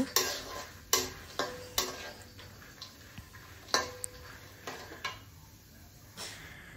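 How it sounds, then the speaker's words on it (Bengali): Peanuts are frying in a pan and get stirred with a utensil. Sharp, irregular scrapes and knocks ring out against the pan over a soft, steady sizzle, close up, with no voices. "এখন সুন্দর করে নাড়াচাড়া করে আমি বাদামগুলো ভেজে নেব"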